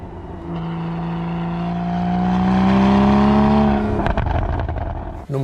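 A Porsche 981 engine revs up steadily in a rising, tonal wail that climbs for several seconds, then drops off abruptly with gear-shift crackle and a rougher rumble at the end, loud and close, with no talking.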